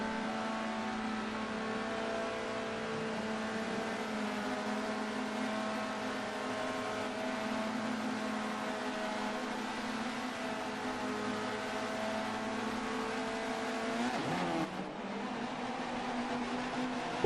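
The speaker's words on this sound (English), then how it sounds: "Cars are getting ready, revs are climbing." Touring race cars in the Forza racing game sit revving on the grid at Silverstone, a steady layered engine drone with harmonic whine that holds for many seconds and briefly swells near the end.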